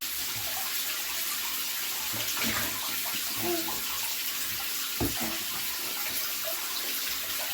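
Warm bath water sloshes and splashes as a small child plays in the tub, a continuous close wash of water with occasional louder splashes and faint voices in the background.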